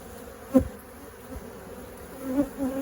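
Honeybees buzz close by around a hive entrance in a steady drone, with louder passes as individual robber bees fly near.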